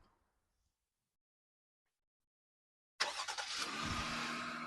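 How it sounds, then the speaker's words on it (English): A 2024 Jeep Gladiator Mojave's V6 engine starts by remote start after about three seconds of silence, catching with a loud burst and settling into a steady, close idle rumble. "this is the roar of the V6 engine."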